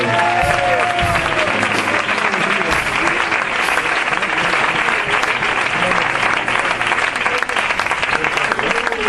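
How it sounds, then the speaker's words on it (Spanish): A crowd claps loudly and continuously, a dense wash of applause that holds steady from start to finish, with a voice briefly audible at the outset. "¡Aplaude al Señor!"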